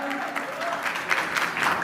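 Audience applause welcoming Bhojpuri power star Pawan Singh onto a stage at a Lucknow event, a steady crowd clapping of moderate loudness throughout.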